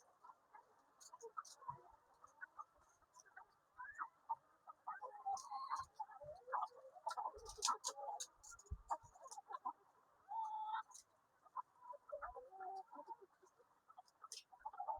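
Chickens clucking softly at a distance in an outdoor setting, a quiet run of murmuring, overlapping calls with scattered sharp clicks and brief louder bursts throughout.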